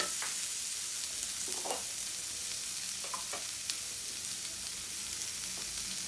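Tomatoes frying in a pan for a soya and potato masala gravy give a steady, close sizzle with a few light scrapes and stirs throughout.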